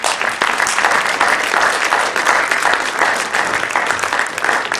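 Sustained, dense audience applause fills a hall at a university academic symposium mock trial, cheering the prosecutors; loud, even and continuous throughout with no pauses.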